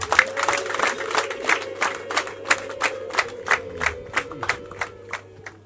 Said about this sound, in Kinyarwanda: Ese ntitwatanga amashyi n'impundu nyinshi?